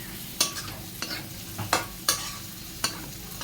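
Food with sauce being stirred in a pan: a utensil scrapes and clinks against the pan in about six separate strokes over a soft, steady sizzle, with no voices.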